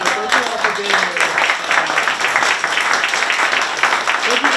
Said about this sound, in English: We need to give a round of applause to John.